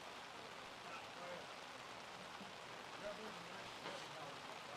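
Steady rain falling on an outdoor wiffle ball field, a soft even hiss throughout with faint voices in the background.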